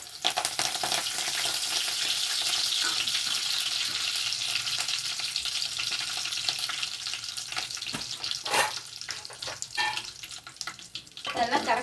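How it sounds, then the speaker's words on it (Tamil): Fennel seeds and cinnamon sizzle steadily in hot oil for vermicelli upma, with a continuous hiss and occasional stirring clinks and scrapes, close and fairly loud throughout. "சோம்பு பொரியுது."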